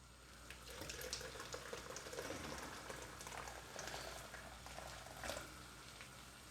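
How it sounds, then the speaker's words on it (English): Hot water pours into a pan of curry sauce with a steady, faint splashing and bubbling stream that swells slightly toward the end, with no talk over it. "And then we've got to top it up with 400 ml with hot water."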